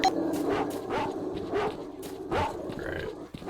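Dogs in the video game Stalker let out repeated short yips, grunts and whimpers over a low game rumble, fairly faint and spaced irregularly.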